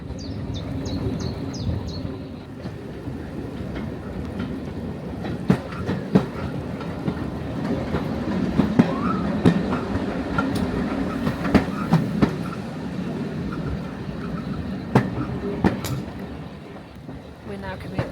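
A long heritage train on the Peak Rail line in Derbyshire rolls steadily along, with rhythmic clickety-clack of wheels over rail joints heard from on board, someone talking over it and birds calling faintly at the start.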